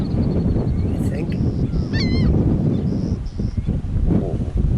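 Flock of white birds near a rail loading dock in Wyley, Saskatchewan, honking in scattered short calls, some overlapping, against steady wind noise on the microphone.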